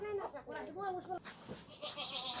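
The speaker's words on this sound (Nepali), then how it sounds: "बाख्रा पनि कतिलाई छन् फेरि" Goats bleat in a goat shed at a rural home, several wavering calls overlapping one another with a person talking over them.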